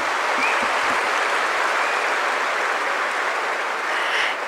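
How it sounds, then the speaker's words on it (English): An audience at a spirituality festival applauds loudly and steadily, a dense wash of clapping that fills the whole stretch without letting up. "A huge round of applause,"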